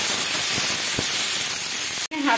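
Potato and onion with green chilli frying in hot oil over a medium flame give a steady, loud, close sizzle and hiss with a few faint pops, broken by a sudden brief cut near the end.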